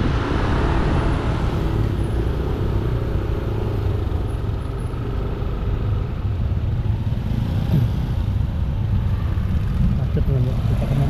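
A traffic jam on a busy street in Bali between Denpasar and Ubud: dense, constant roar of car and motorbike engines close by, steady throughout, with some voices under the noise.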